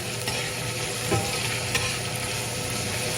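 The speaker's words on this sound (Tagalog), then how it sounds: "inuuna ko muna ang sibuyas. Mas gisa-gisa" Onion sautéing in a hot pan as the base for chicken sinigang, a loud continuous sizzle with occasional scrapes and stirring knocks, close up and with no talk.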